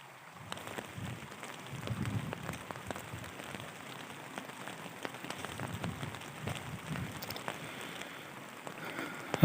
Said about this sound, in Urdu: ابھی سوئے تھوڑی دیر ہی ہوئی تھی کہ بارش شروع ہو گئی ہے اور میں ہوں بھی نالے کے اندر.